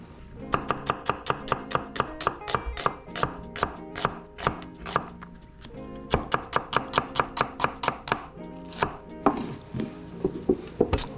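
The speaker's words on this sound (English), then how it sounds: "I want to get my onions sliced up" A knife slices onions on a cutting board for a Niçoise salad, giving a steady run of close, crisp chops, about two per second, with a short pause midway and a faster flurry at the end; no voices.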